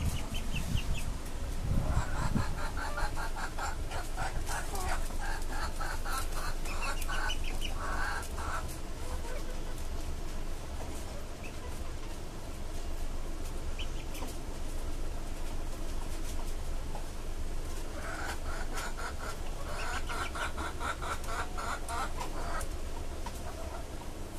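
Desi chickens on a chicken farm cluck continuously, many birds overlapping at moderate distance over a steady background hum, with no one talking.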